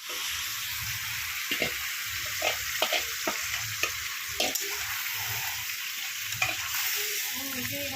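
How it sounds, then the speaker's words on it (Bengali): Onions fried as beresta for biryani in an outdoor cooking setting, giving a continuous bright sizzle with repeated scraping and clinking of a stirring utensil through the hot oil. "তো এখন আমাদের বেরেস্তা ভাজা হচ্ছে।"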